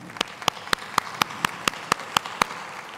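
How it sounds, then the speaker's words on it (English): Slow, evenly spaced hand claps at a lecture, about ten crisp individual claps in a steady rhythm, close and distinct rather than a crowd wash. "I'll clap for that too."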